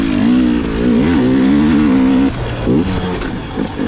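A 2021 KTM 300 XCW TPI two-stroke dirt bike engine lugging at low revs, a loud close droning burble that wavers in pitch, then dips and settles.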